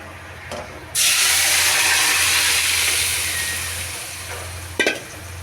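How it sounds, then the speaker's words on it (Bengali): Vegetables hit hot oil for a shrimp-and-vegetable curry, setting off a sudden loud sizzle that slowly fades, followed by a short clatter of stirring near the end. "বাগার দিব এখন আমি সবজিগুলি দিয়ে দিব"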